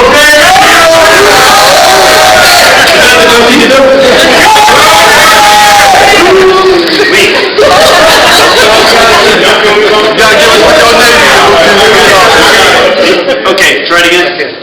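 Wedding guests shouting a Navy cheer together, a loud crowd roar of overlapping voices and whoops that holds steady and close for the whole stretch.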